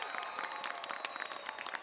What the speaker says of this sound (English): Graduates, join me in a big round of applause for your family and friends who joined you today.